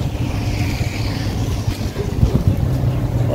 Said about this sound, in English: Oh wow, somebody's still driving.